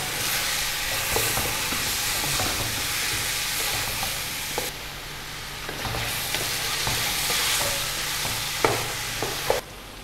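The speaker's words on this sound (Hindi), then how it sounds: "सात से 8 मिनट हमने गोश्त को पेस्ट के साथ भून लिया है।" Beef frying with spice paste in a pot for nihari, a steady loud sizzle with scraping stirs and clinks running throughout, alone with no talk.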